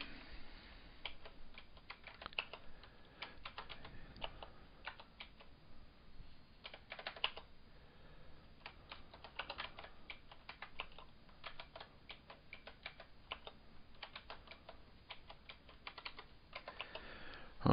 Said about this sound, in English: We'll type in the constants.